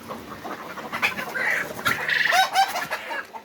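Farm chickens cluck in a steady series of short, clipped calls, fairly close, with a faint background hiss.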